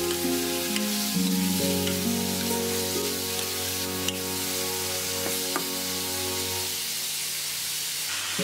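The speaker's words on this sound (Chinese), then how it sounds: "继续翻炒" Carrots and cabbage sizzle steadily in a hot wok as they are stir-fried, a loud, continuous frying hiss with faint scraping from stirring.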